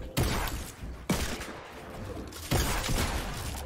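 Bursts of rapid Fortnite gunfire crackle in three loud volleys, each sharp onset trailing into dense rattling, with no talking.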